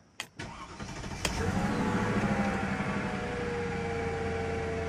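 A Mercedes-Benz engine cranks and fires after a spark plug change, with a couple of sharp clicks before catching, then settles into a steady, fairly loud idle that runs smoothly without sputtering.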